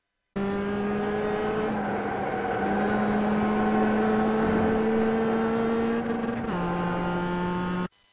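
A Mazda MX-5 race car engine in the iRacing video game screams at high revs around Laguna Seca, its pitch climbing and dropping with gear shifts, then cutting off abruptly at the end.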